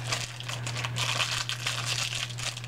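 A plastic wrapper on an L.O.L. Surprise doll ball crinkles and crackles as it is torn open by hand, a close, continuous rustle over a steady low electrical hum.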